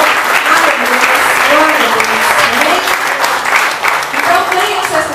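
A church congregation at a worship service in Pompeia, Belo Horizonte claps steadily and loudly in praise, the continuous applause running throughout while a preacher's voice carries over it.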